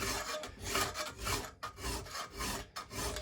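Close, rhythmic rasping strokes of a file being drawn along a salvaged machete blade, about five steady passes separated by brief pauses, with no voices.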